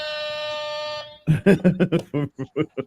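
A single loud, buzzy air horn blast lasting about a second, followed immediately by someone talking rapidly.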